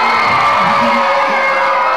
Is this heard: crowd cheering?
yes